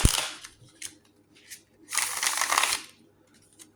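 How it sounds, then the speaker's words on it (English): Tarot cards are shuffled by hand in several short riffling bursts, soft and close, with pauses between them and one longer burst in the middle. "Give it a couple of shuffles."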